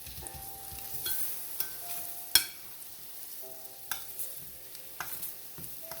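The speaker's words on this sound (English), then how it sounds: "Now I'm going to stir this up. So they're already cooking." Black plantain slices fry in coconut oil in a pan and are stirred, with a steady sizzle under scattered scrapes and one sharp clack of the utensil, close and without speech.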